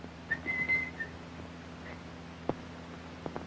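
A few short, faint whistled notes near the start, then a quiet room with occasional soft ticks.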